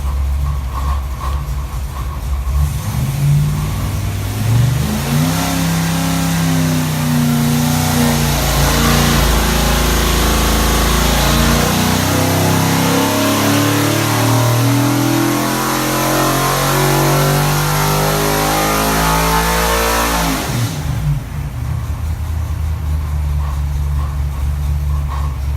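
A carbureted CHP 408 V8 engine on a dyno roars loud and close, climbing steadily in pitch through a long full-throttle pull before dropping back off near the end, with no voices.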